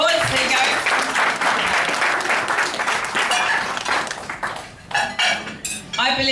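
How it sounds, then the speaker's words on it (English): Applause from a crowd, a dense steady clatter of many hands clapping, fading briefly near the end before picking up again in bursts. "let's give these guys a round of applause"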